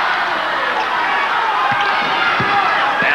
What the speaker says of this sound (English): this is the most vocal this crowd has been all night